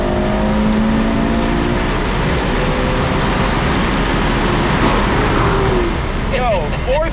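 A 2021 Ferrari 812 GTS accelerating hard in fourth gear makes a loud, continuous engine roar whose pitch climbs steadily, heard close up inside the car.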